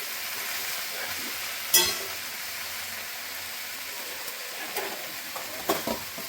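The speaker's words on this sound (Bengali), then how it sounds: "ভালো করে নেড়ে চেড়ে একটু ভেজে নিতে হবে।" Pumpkin leaves seasoned with salt being stirred and fried in a pan, giving a steady sizzle with a few sharp scraping clacks of the spatula, close and fairly loud, with no voices.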